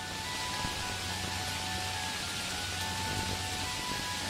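Steady rain at night, recorded by an outdoor security camera, a dense even hiss with a low rumble beneath and no voices.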